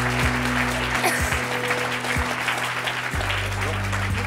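A TV studio audience gives a guest a warm round of applause, dense continuous clapping at full strength from start to finish, with a low steady hum beneath.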